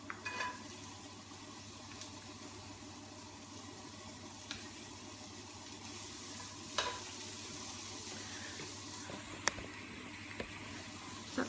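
Vegetables and prawns frying in a pan, a steady quiet sizzle with occasional stirring scrapes and clicks of a utensil against the pan.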